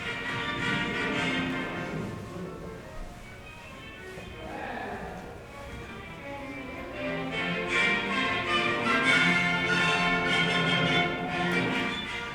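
A Beethoven classical instrumental passage, a third movement, plays with shifting loud and soft phrases, rich sustained tones and lively rhythmic movement, heard at moderate volume.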